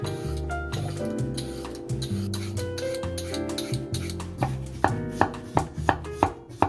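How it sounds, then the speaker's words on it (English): Vegetables chopped with a knife on a board, with rhythmic thuds that grow louder and sharper toward the end, heard over a soft background of music-like tones. "I just need to put it all together and chop up some veg."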